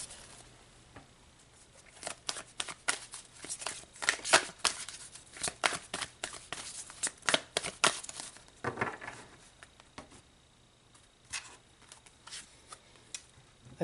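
Tarot cards shuffled in bursts of soft riffling and crinkly paper flicks, close and quiet, with a pause near the end before a few more card sounds.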